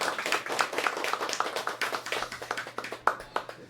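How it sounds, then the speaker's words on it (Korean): A small audience at a lecture on Buddhist thought claps for a professor, a brisk and irregular run of individual hand claps heard fairly close and lasting throughout, with no talking. "박수 한번 드리겠습니다"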